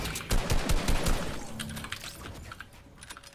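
Rapid video game gunfire opens with a dense, loud volley of close shots, then thins into fainter, scattered cracks and clicks over the following seconds.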